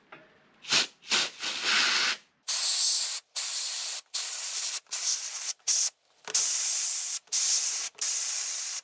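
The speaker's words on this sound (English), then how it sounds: "So very gently steam cleaning." A steam cleaner blasts a filthy keyboard during a Jen SX1000 synthesizer refurbishment, giving loud, close hissing bursts of varying length separated by short pauses, with no voices.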